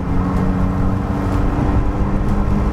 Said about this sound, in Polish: jak na 50-letni samochód reaguje na pedał gazu, przyspiesza 110 koni.